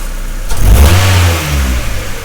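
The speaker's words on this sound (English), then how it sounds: "when I hit the throttle, it'll kind of shake and kind of stumble for a minute before it catches on" A Mazda Miata engine with a stumbling misfire revs under throttle, a loud close burst of uneven engine roar that rises and then sags briefly, with no talk.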